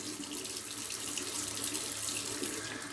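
Water runs steadily from a bathroom tap into a sink before a straight-razor shave, a continuous close hiss and splash with no pauses and no talking.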